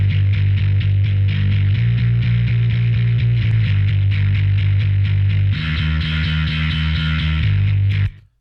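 Distorted bass guitar, no low end and gritty upper mid-range distortion, on a mixed rock track with drums; a steady loud riff that thickens and brightens partway through as the distortion is punched in, then stops abruptly.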